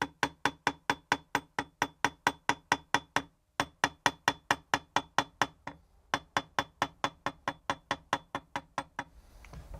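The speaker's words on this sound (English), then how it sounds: "Series of light taps. You don't want to hit so hard you bend it, because the whole point is that it stays straight." Light hammer taps on a 2.5 mm metal rod to knock off flux, a fast steady run of crisp metallic ticks, close and even, broken by two brief pauses before trailing off.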